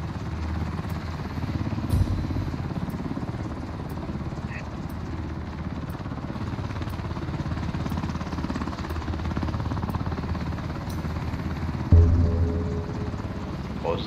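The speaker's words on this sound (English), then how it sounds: "Get your ass on the chopper." A helicopter in the shooter Ring of Elysium drones continuously with a dense rotor and engine rumble, steady and close, with a brief low thump near the end.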